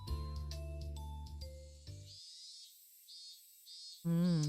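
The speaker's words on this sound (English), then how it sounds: "Cicadas are crying once again." Cicadas drone in the video game Higurashi When They Cry, a thin, pulsing high buzz that follows a chiming jingle of game music. The drone is faint and steady and cuts off as a louder sound begins at the end.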